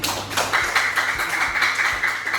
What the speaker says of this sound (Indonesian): tepuk tangan dulu untuk Gede Manik